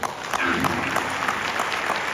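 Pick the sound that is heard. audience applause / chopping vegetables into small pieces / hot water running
audience applause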